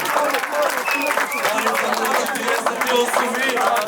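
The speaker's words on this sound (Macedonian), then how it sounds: "да чуеме еден огромен аплауз за крај" Steady applause and cheering from a crowd at a rap battle, continuous and fairly loud throughout.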